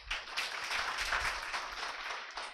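Loud applause from a classroom of students in a Hindi grammar test-series class, a dense steady clatter of many hands clapping for about two and a half seconds.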